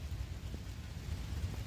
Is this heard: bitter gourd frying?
no